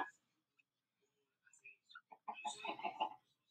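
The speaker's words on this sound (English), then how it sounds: "there are a few chickens that are frozen" Soft, faint Minecraft chicken clucking and chirpy bird-like calls, sparse at first and then a short busier burst near the end, quiet and somewhat distant.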